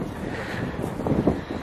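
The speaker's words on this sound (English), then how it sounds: "It's beautiful blue sunshine, but very windy." Strong wind gusting across sunny seaside cliffs, a steady broadband rush with buffeting swells against the microphone and no voices.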